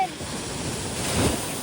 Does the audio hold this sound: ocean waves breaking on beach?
yes